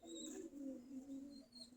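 Giribaz pigeons at a coop on a cold winter morning drink water and give soft, steady low cooing, close by and continuous with no talk.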